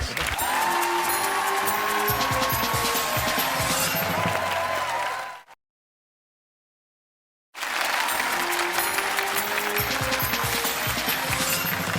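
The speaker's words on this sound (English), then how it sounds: "Everyone's clapping, everyone feels like a seal all of a sudden." Studio audience of a game show clapping in a loud sustained wash of many hands, with music playing underneath; the applause cuts to a two-second silence, then resumes at full strength until the end.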